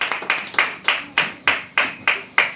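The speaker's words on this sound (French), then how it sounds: "on applaudit le Seigneur" Rhythmic congregational clapping in a church during worship, steady beats roughly every third of a second, close and fairly loud with no voices over it.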